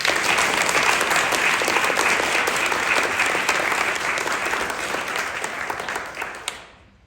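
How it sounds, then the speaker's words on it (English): An audience applauds the third-place winner of a youth poetry competition at a 2021 literary awards ceremony; a full, even burst of clapping that holds steady and then fades out quickly near the end. "clap it up for The Twisted Tongue by Jack Dickens"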